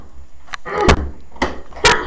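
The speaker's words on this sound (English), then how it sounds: "I can't get the door open." A door bangs and rattles in two hard, close jolts about a second apart as someone fails to pull it open, loud with no talk over it.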